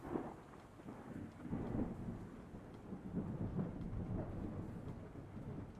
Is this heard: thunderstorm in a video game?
yes